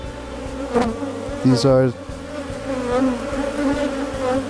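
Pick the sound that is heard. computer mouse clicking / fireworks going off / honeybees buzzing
honeybees buzzing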